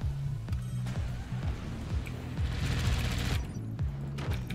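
Weapons fire in the real-time strategy video game Forts, a rapid series of thumping shots and bursts repeating across the whole stretch, loud and close with a brief rushing swell in the middle.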